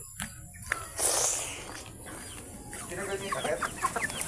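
A newly hatched native chicken chick peeps in high, rapid cheeps near the end, with clucking hens and rustling around it.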